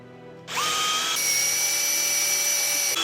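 Ryobi impact driver boring into a knot in wood: a loud, steady high-pitched motor whine kicks in abruptly and holds for about two and a half seconds, stepping up in pitch partway through, with no talking.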